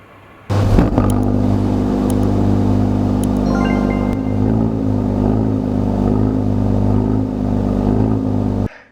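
A Porsche Cayenne E-hybrid Coupe with its sport exhaust starts up and idles with a deep, loud rumble, a brief rev rising midway before settling back, close and steady until cut off.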